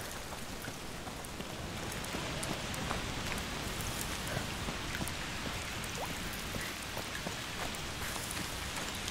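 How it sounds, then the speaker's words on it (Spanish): Steady rain in the video game A Plague Tale: Requiem, a dense, even wash of falling drops with scattered sharper drips on surfaces, continuous and close, with no voices. "Estos días que son así súper tranquilos, en que solo se escucha la lluvia"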